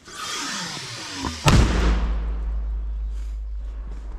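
A single sharp gunshot cracks out near the middle at a frontline position in Ukraine, followed by a long low rumbling echo that fades slowly.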